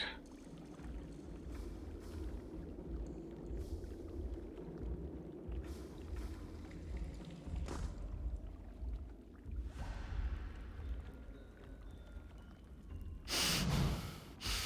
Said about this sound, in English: The ogre matron sniffs at the air, her nostrils as wide and dark as two pistol barrels.